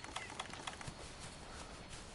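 A flock of birds in a video game gives faint, rapid flutters of wings in quick repeated pulses over a soft hissy background, with no voices.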